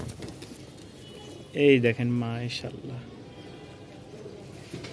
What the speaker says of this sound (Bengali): টপ কোয়ালিটির একটা ফ্লোর কবুতর, লেজ সম্পূর্ণ সাদা।